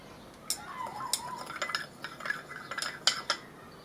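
A spoon stirs sugar into a cup of tea made from a 2014 Ukrainian 24-hour military field ration, giving quiet, irregular clinks and scrapes of metal against the cup.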